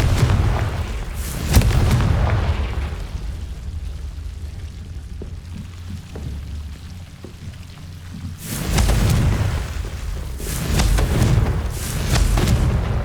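Confringo blasting spells from the Hogwarts Legacy video game go off as loud, deep booming explosions, with a burst near the start and more heavy blasts rolling in the second half, rumbling between hits.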